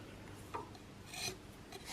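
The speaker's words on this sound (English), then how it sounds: "in order to rub the chalk across the blades" Tailor's chalk rasped across the blades of a sharpening box, two short scraping strokes standing out faintly from a quiet background.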